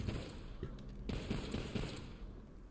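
An automatic sniper rifle in Tiny Tina's Wonderlands fires a rapid string of shots, each a distinct punchy report, over a low rumbling game background.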